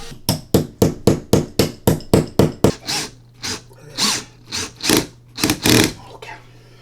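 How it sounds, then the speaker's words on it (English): A hammer strikes into a wooden wall while a TV mount is installed, starting with a quick, even run of about a dozen close, sharp blows, then slowing into heavier, irregular hits with faint talk between them. "I usually use a hammer"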